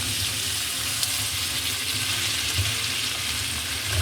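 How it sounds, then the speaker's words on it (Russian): Vegetables stewing in a pan give a continuous, even sizzle and bubbling hiss, close and steady throughout with a faint low rumble beneath and no speech. "Пока наши овощи тушатся"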